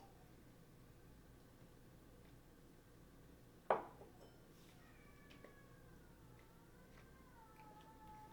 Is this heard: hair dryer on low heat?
no